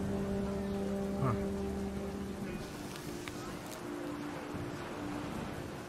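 Steady rain falls in the video game What Remains of Edith Finch with a constant hiss, while faint tonal sounds and a voice murmur briefly over it in the first few seconds.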